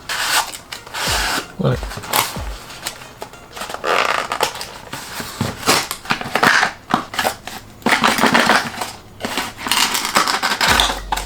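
A remote extruder motor housing on a toolchanger 3D printer is cut open with harsh, rasping strokes in uneven bursts, close and fairly loud, while someone speaks briefly.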